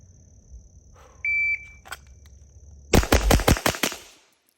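Custom handgun fired at an outdoor shooting range: a short electronic timer beep, then a quick rapid string of about seven loud, sharp shots close by, ending in quiet.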